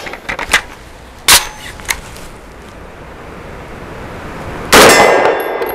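An Extar EP45 pistol fired with aluminum-cased ammunition at an outdoor range. Several sharp, ringing cracks come at uneven intervals, and a louder, longer report closes the sequence.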